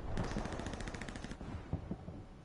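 A rapid, light-sounding automatic gun firing in a video game, thin and popping like a BB gun: a fast steady burst of shots for over a second, then a few scattered louder single shots, close and alone.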